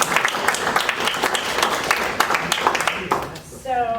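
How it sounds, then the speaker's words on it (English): A seminar audience applauding its panelists, with a dense burst of clapping from a room full of people for about three seconds before it fades and a voice begins. "let's give our panelists a round of applause"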